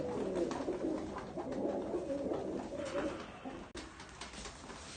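Pigeons, a breeding pair, coo in low, throaty, repeated murmurs close by, with a brief sharp click partway through.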